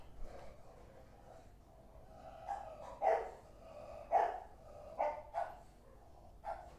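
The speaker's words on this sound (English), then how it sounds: "Why are my neighbors scolding their dogs right now?" Neighbors' dogs bark from a distance, a few separate bursts spaced out over a quiet indoor background.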